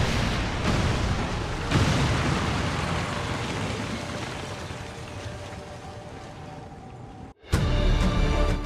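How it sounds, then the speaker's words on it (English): An explosive charge detonates in XCOM 2 amid a loud, rumbling roar with a couple of heavy thuds, then a brief silence before another sharp, bright burst of sound. "Detonating charge."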